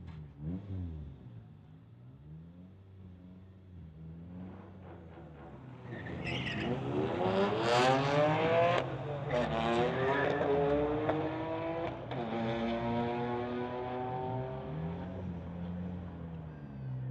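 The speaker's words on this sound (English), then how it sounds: "Mercedes versus BMW coming up next here at Friday Night Street Legals." Street-legal Mercedes and BMW cars at a Friday night drag race idle, then launch into a loud, rising engine roar. The revving climbs and sweeps in pitch for several seconds before settling.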